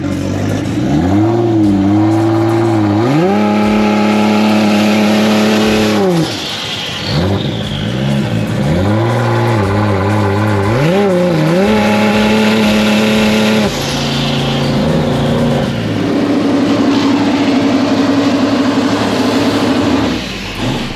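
Big-turbo 3RZ four-cylinder engine in a Foxbody car holding revs during a brake test, loud and close, rising and falling in repeated surges with a steady drone between pulls.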